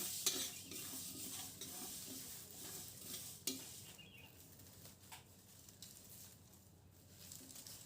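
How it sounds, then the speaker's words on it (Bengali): Cumin, fenugreek, cardamom and cloves dry-roasting in a pan for mango pickle spice, stirred now and then: a faint, steady rustling hiss with occasional light scrapes and clicks, quiet and close, no speech. "এখন জিরা আর মেথি তার সাথে এলাচ লবঙ্গকে দিয়ে ভেজে নিতে হবে"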